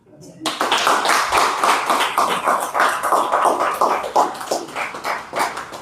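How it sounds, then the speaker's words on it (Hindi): Audience clapping for a poet at an open mic night in Panchkula, dense and close, holding steady for several seconds with a murmur of voices mixed underneath. "मेरे लिए तालियां।"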